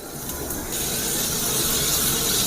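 Onions for mutton nalli biryani frying in hot oil, a steady, dense sizzle that swells slightly and holds close and loud without pause.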